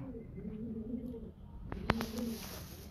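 Pigeons kept by a pigeon-flying hobbyist coo softly nearby in low, repeated throaty calls, with a few sharp clicks and faint background noise.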